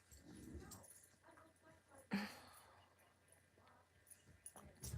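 Two dogs whimpering and whining softly at close range, with a sharper yelp-like burst midway and scattered small vocal noises, no talking.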